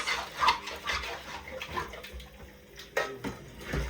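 Running hot water splashes in a sink while dishes are washed, with occasional clinks of dishes, a steady wash of sound throughout.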